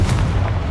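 A Confringo blasting spell explodes in Hogwarts Legacy with a short, heavy, booming burst, loud and close, fading quickly within a fraction of a second.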